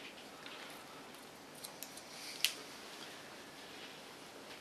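Scissors cut hair during a layered haircut: a few faint, sparse snips against quiet room hiss, one crisper snip standing out in the middle.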